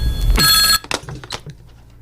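A telephone gives one loud, bright electronic ring that stops abruptly, followed by a few short clattering handling sounds and a quiet tail, with no voices.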